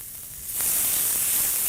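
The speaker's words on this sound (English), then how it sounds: "I've added a little bit of garlic, sizzling nicely." Garlic sizzles in a hot pan, a steady bright hiss that swells in after a quiet moment and holds loud and close, with no talk over it.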